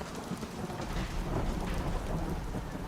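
Steady heavy rain pours across a castle courtyard while thunder rumbles low and continuous underneath, a dense storm soundscape with no voices.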